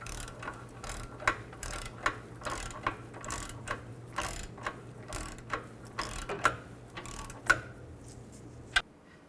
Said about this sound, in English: tighten these nuts up evenly and torque these to 37 foot-pounds